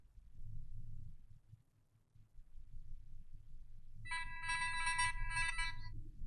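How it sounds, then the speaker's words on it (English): A telephone rings with a bright electronic trilling tone, starting a few seconds in and continuing over a low steady background hum from computer equipment. "Right, just had to answer the phone."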